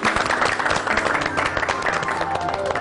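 A studio audience on a Pakistani morning talk show bursts into dense, loud applause, with many hands clapping steadily throughout and the crowd noise holding at an even level.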